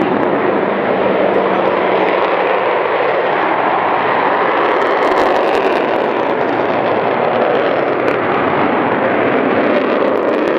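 An Avro Vulcan B2 jet bomber takes off at RAF Waddington, its engines powering up into a loud, continuous, rumbling roar that fills the whole stretch without a break.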